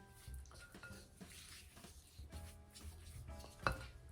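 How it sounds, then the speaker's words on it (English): Spatula scraping around a mixing bowl of gluten-free sugar cookie dough, with soft continuous scraping and light clinks of utensil against the bowl, plus one sharper clatter near the end. "so I'm gonna scrape my bowl again"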